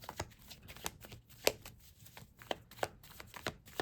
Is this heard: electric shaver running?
no